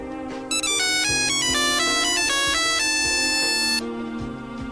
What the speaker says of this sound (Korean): 핸드폰이 울려댑니다.